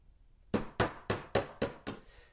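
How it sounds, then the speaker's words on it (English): A hammer taps a punch to drive a pin out of a Benelli/Stoeger shotgun during a bolt release install: six crisp, evenly spaced metallic strikes, close and clear in a quiet room. "So go ahead and tap that punch in"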